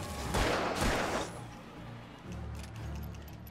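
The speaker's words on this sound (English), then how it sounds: "Oh god, I wasted so many bullets." Gunfire from the video game Alan Wake, with a dense burst of loud shots up front, then quieter rumbling tails and lighter impacts.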